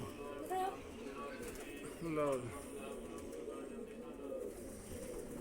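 A large pet pigeon coos in low, rolling bursts under steady background noise, while someone speaks briefly nearby.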